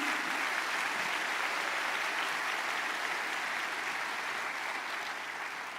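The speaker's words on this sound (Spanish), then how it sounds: "dale fuerte ese aplauso a Jesús" A church congregation applauds for Jesus during a sermon, a dense, even wash of clapping that holds steady for several seconds and tapers slightly at the end, with no voices over it.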